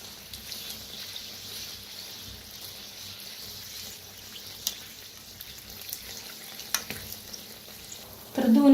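Kachori frying one at a time in hot oil on medium heat, a soft steady bubbling sizzle at low level with a few faint clicks, ending in a louder clatter, with no talk.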